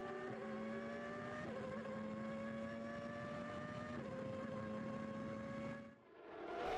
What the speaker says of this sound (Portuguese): E agora um pouco do ronco do motor Peugeot, com Martin Brundle na 10ª posição.